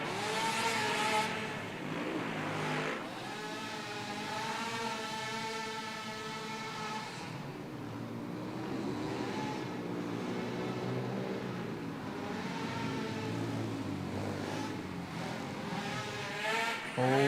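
Two-stroke ATVs in a novice class race on a dirt track inside a barn, engines whining and revving as they pass, rising and falling in pitch over a continuous roar with no voices.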